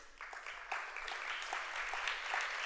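An audience claps at an opening session, the applause swelling from scattered hands to a steady, dense patter of many people in a hall.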